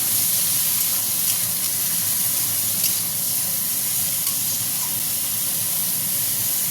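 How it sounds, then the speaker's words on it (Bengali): Ridge gourd pieces sizzling in a hot pan while being stirred, a steady close hiss of frying that runs throughout with faint scraping now and then. "এইবার আমি দিয়ে দেবো সেই ঝিঙেগুলো, এই যে একটা নাড়া দেবো"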